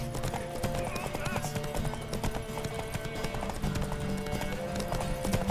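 Rhythmic clip-clop of horse hooves trotting steadily over a busy soundscape in The Witcher 3: Wild Hunt, with brief voices and a whinny mixed in.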